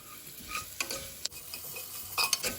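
A spoon scrapes and stirs turmeric and spices in a hot frying pan, with soft sizzling underneath and a few sharp clinks, quiet and close.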